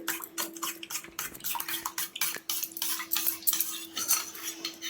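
A spoon clinks and scrapes steadily against a bowl while cornflour is stirred smooth for homemade mango ice cream, with a faint steady hum underneath and no talking.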